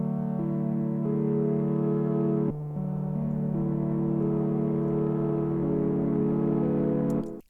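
Synth preset from a VST plugin playing with its noise layer switched off: a sustained, warm low chord that holds, shifts pitch once after a brief dip, and fades out near the end, steady and unaccompanied by voices.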